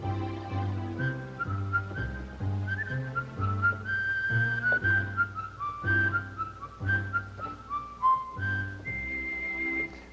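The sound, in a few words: electronic organ whistle voice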